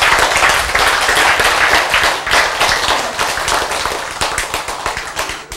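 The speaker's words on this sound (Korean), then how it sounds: "박수" An audience at a sermon on the parables of Jesus breaks into loud, dense applause, many hands clapping close together, fading slightly toward the end.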